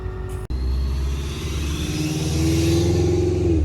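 A supercharged Vortech V3 FRS, bagged, pulls away with a rising engine drone and the supercharger's whine building over a deep rumble, loud and close after a brief dropout at the start.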